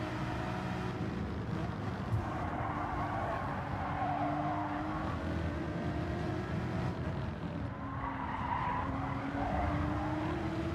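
Race car in a racing video game braking hard with tires skidding, a continuous loud engine and tire roar with squealing tones sweeping up and down throughout, no talking.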